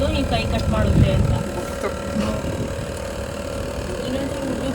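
A boat engine idles and chugs at mid pitch on the water near Pondicherry, steady and fairly close beneath people talking.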